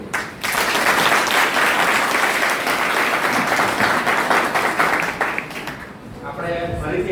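Sustained audience applause at a college lecture event, dense clapping from a seated crowd continuing steadily for several seconds before tapering off near the end.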